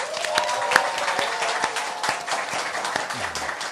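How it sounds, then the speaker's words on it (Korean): A studio audience at a talk show claps steadily and enthusiastically, dense applause filling the whole stretch at an even level. "여러분의 힘찬 박수와 함께 시작하겠습니다."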